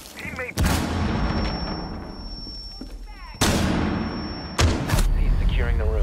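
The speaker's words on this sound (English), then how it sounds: "Throwing a grenade." Grenade blasts in the Rainbow Six Siege video game: several loud, booming explosion bursts with sharp onsets and long decaying rumble, the last two coming close together, amid game ambience and a faint voice.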